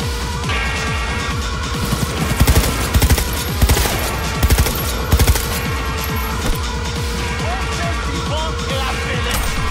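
Sustained automatic gunfire from the video game Cyberpunk 2077 rattles in rapid, loud, overlapping bursts, with heavier shots punching through every second or so and a continuous layer of combat noise behind them.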